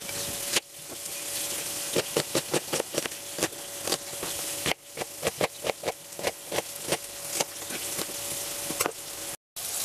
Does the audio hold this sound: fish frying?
yes